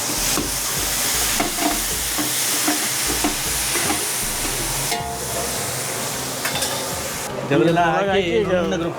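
Tomatoes frying and being stirred in a large pan in a Davanagere hotel kitchen serving biryani, with steady sizzling and busy scraping and clattering throughout, growing louder near the end.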